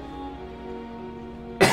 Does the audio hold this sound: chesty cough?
yes